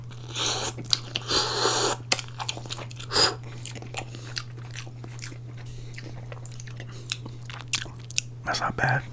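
Someone eats curry ramen noodles close up, with wet slurps and crunchy chewing bites in irregular bursts over a steady low hum, plus scattered mouth clicks between bites.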